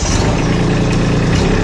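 The diesel engine of a Kubota B2601 tractor loader backhoe idles loudly and close, a steady low rumbling drone with no breaks.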